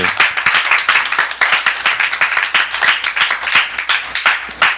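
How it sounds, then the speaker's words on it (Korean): A church congregation claps together in thanksgiving at a retreat gathering, a dense, loud, steady patter of many hands sustained throughout with no talk over it. "그런 기념으로 우리 하나님께 감사의 박수."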